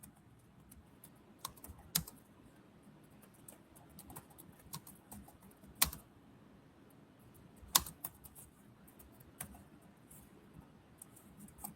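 Quiet keyboard typing clicks away in irregular bursts, with a few louder key taps standing out, close up and without talk.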